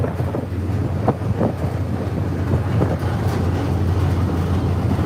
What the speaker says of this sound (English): Whoa, it's very windy here, guys.